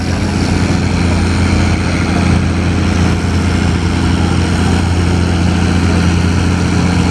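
A John Deere 4430 open-station tractor engine, shown without a cab at an antique engine and tractor show, runs at a steady, loud, droning idle throughout with no break.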